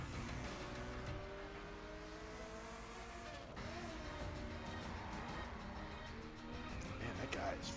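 Tires break loose and squeal on a car in the racing video game The Crew on PC, a steady engine drone running underneath for the whole stretch with a faint voice now and then.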